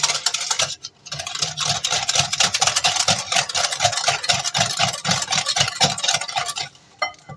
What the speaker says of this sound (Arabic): صافي وغادي نخلطو غير بالمشبك بتاعنا